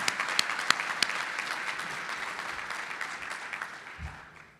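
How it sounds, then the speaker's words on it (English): Applause from a crowd at a Virginia Talent Pipeline Project signing day, steady clapping with a few sharp nearby claps, gradually thinning and fading toward the end. "one round of applause for everybody who participated, the new hires, the employers"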